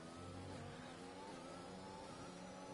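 Formula-style race car engines from the F1 2021 video game at the Chinese GP whine in a steady, dense roar with shifting pitch, several cars blending together.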